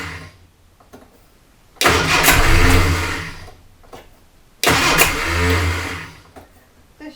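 A car engine cranks after a fuel problem in two long starter bursts of churning whir, close and loud, separated by a quiet pause, without catching cleanly.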